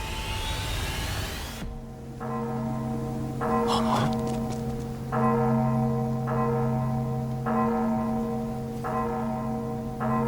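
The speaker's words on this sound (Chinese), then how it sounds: "这不是蒋学的钟声，是备战警钟。" A war alarm bell in an animated fantasy drama tolls about six times at a steady, slow rhythm, each strike ringing out with a long metallic hum. A brief noisy burst comes just before the first strike.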